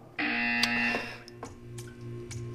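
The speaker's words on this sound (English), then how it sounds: "You will hear a buzzer." A loud, steady electronic buzzer tone in the video game Portal 2 sounds for under a second, then cuts off, leaving faint background hum and a few soft clicks.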